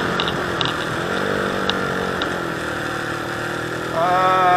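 A car engine revs during a rev-matched gear shift: a steady running drone with a few faint clicks, then a sudden louder, rising rev near the end, no talk.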